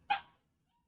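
A puppy gives a single short, sharp bark close by indoors, clipped off quickly and followed by silence.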